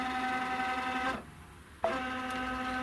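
Embroidery machine stitching a placement line on fabric layers over batting, a steady mechanical hum with tonal whine that cuts out briefly midway, then resumes at the same level.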